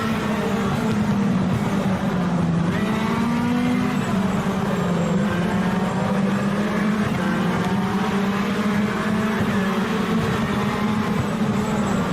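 Engine of a Moreau MR18 race car in a sim racing game drones steadily throughout, a loud continuous whine that rises and falls slightly with throttle and gear changes, close and alone with no talking.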